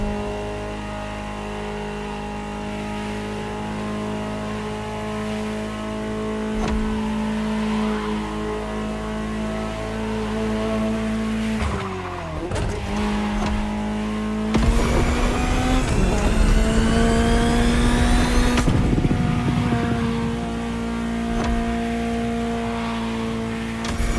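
Ferrari supercar engine in a PlayStation 4 racing game, a loud steady drone that surges as revs climb, dips briefly, then roars up through rising gear pulls with tire noise, no voices.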